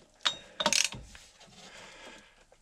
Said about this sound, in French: Avec un cliquet.